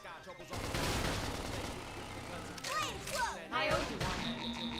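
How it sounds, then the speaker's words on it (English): A flashbang detonates in the Xenoblade Chronicles X video game, a sudden loud burst followed by a sustained crackling, ringing wash and further sharp game effects, while people talk over it. "Oh, flashbang."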